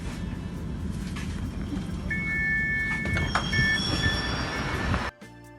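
Steady rumble of a Melbourne commuter train rolling along, with high metallic squeals from the wheels and a brief hiss and thud near the end.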